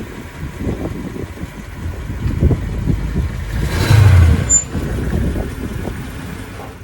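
A Mercedes ML55 AMG engine runs close by after new spark plugs, coil packs and ignition leads, with a steady rumble that swells into a brief rev around the fourth second before settling back to idle.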